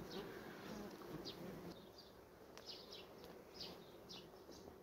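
Steady buzzing of honey bees hovering close by at a hive, with faint higher chirps scattered through it and no talking.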